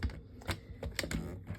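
Blade scoring and cutting card stock for card bases on a paper trimmer, a quick series of close, sharp clicking strokes in an uneven rhythm.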